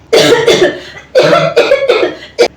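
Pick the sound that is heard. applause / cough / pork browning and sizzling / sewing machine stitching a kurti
cough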